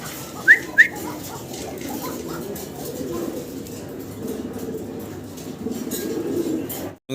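A pair of Hasian pouter pigeons offered for sale coo low and soft amid background chatter, with two short, shrill chirps near the start.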